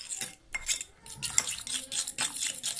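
A spoon scrapes and clinks against a bowl while a cheesy stuffed-mushroom filling is mixed, producing close, irregular metallic taps and scrapes with no speech.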